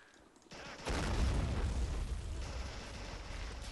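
Mortar shells explode in the Men of War strategy game, a heavy low boom that bursts in suddenly and then rumbles on loudly, with crackling debris and distant battle noise trailing off.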